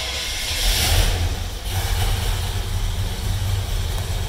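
A 1965 Chevrolet Caprice with a 396 V8 fires up and settles into a steady, loud low rumble with broadband hiss, running continuously with no voices.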